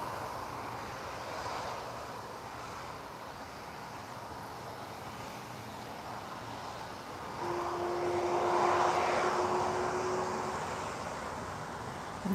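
A DHL cargo plane at Lisbon Airport roars steadily and grows louder partway through, a broad continuous engine rush heard from a distance without any talk.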